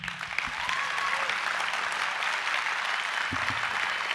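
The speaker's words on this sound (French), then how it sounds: "Tout le monde peut applaudir." A school audience from Boissière and Saint-Dionisy applauds steadily, a dense, even wash of clapping that holds at a constant level throughout, with a few faint voices mixed underneath.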